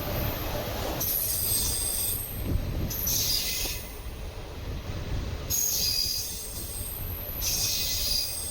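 The Chennai Egmore Express from Kollam runs steadily on the rails, a continuous roar of wheels with repeated high metallic squeals rising and fading, no speech.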